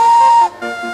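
A steam train sounds its whistle in a single loud, sustained blast, close and bright, breaking off briefly before a second, lower hissing tone carries on.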